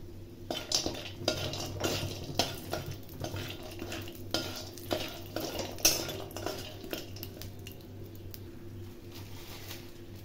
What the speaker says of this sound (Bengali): কড়াতে সামান্য সর্ষের তেল দিয়ে বড়িগুলোকে ভেজে নিচ্ছি